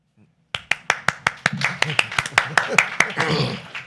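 A single person claps at a Carrollton city council meeting, a run of roughly a dozen close, sharp hand claps that quicken and blur slightly as faint voices and a chuckle come in underneath.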